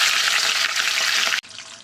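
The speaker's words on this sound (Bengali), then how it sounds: "তেল গরম হয়ে গেছে, এখন মুড়োগুলোকে দিয়ে দিচ্ছি" Fish heads drop into hot mustard oil in a kadai and fry with a loud, dense sizzle that cuts briefly and then carries on more softly.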